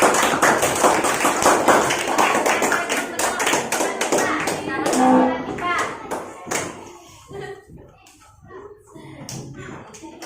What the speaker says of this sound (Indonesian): Tepuk tangan buat Sarifah.